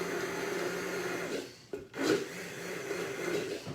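Basil leaves are muddled for a gin cocktail, with repeated grinding and rubbing scrapes of the muddler against the glass, close and steady, broken by a brief pause partway through.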